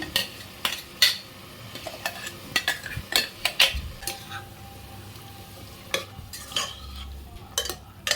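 A paste of ground tomato, garlic, coriander and chilli powder fries in a pan for mutton paya while a spoon stirs it, scraping the pan in scattered clinks over a steady low sizzle, close and without talk.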